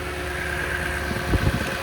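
A 2010 Toyota Tundra double cab 4x4 engine idling with the hood open, a smooth, steady low hum with no revving, heard close up.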